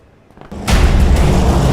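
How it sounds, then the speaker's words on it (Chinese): A heavy explosion erupts in a war film scene of B-29 bombers dropping incendiary bombs on Tokyo, a faint rumble swelling into a loud, sustained roaring blast. "美军派出334架 B-29轰炸机，从关岛出发，再次实施对东京的持续轰炸，共投下了超过2000吨燃烧弹"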